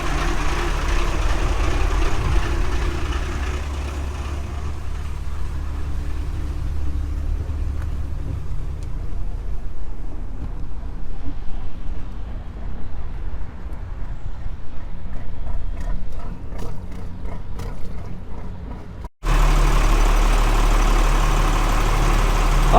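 A heavy trawler diesel engine idles in the engine room with a steady low rumble and mechanical clatter, continuous and nearby, with a brief cut before resuming.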